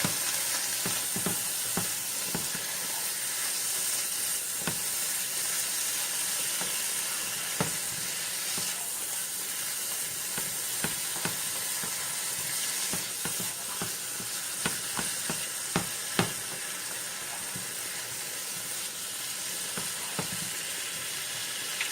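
Tofu tikka masala being stirred in a hot pan with bloomed cardamom and spices, giving a steady close sizzle and frying hiss broken by repeated scraping stirs of the spoon throughout.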